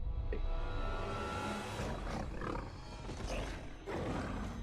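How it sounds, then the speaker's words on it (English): A large creature roars in a Fallout 76 video game trailer, a loud, rumbling growl sustained over several seconds and layered with dense background score and effects. "There's that roar again"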